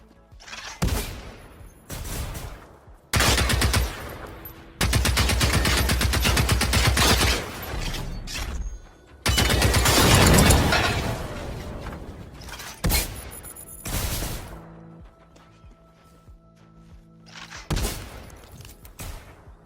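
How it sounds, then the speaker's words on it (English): Machine robots firing guns in Generation Zero: repeated bursts of rapid automatic gunfire and sharp single shots, loud and close, separated by short gaps with impacts and debris, no talking. "use that to anticipate the gunshot before it actually happens"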